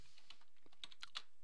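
Several light key taps on a computer keyboard while a tilde is typed with the shift key held, a quick, uneven run of faint, close clicks in a quiet room.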